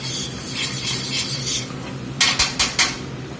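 A metal utensil scrapes browned bits off the bottom of a hot pan while bourbon pepper steak is cooked, with sizzling followed by four sharp, close scraping strokes in quick succession.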